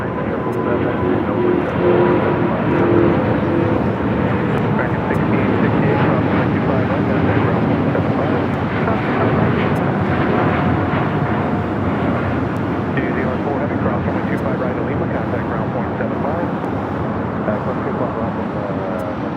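An Airbus A350-900 jet bound for Atlanta roars loudly and steadily at Los Angeles airport, a broad, continuous engine rumble held near for the whole stretch. A voice talks faintly under it at times.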